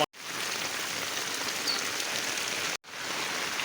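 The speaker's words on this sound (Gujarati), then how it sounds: "તમે જોઈ શકો છો ધોધમાર" Heavy torrential rain pouring down as a loud, dense, unbroken hiss, briefly cut off twice by short silent gaps, with no voices.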